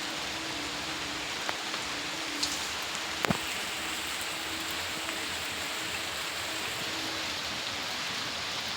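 Steady rain falls outdoors, a continuous even hiss of drops with a low background hum and a couple of faint clicks.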